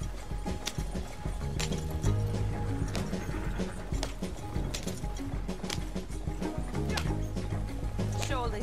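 Horse hooves clip-clop steadily in Red Dead Online as a slow horse pulls a wagon, a continuous busy game mix of hooves, wheels and background sound throughout.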